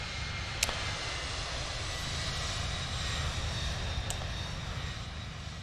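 A jet aircraft passes overhead as a broad, steady roar that fills the whole stretch, with a couple of faint clicks and no speech.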